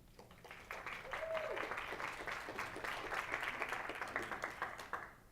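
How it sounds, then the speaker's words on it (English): Audience applause at a December 2018 speaker showcase, fairly quiet and somewhat distant, rising to a steady patter of many hands before tapering off, with a faint voice or tone briefly heard early on. "So a round of applause for them."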